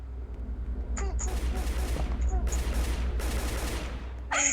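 Rapid pistol gunshot effects from a Roblox game rattle out in close, loud bursts over a steady low game drone, with short pauses between volleys.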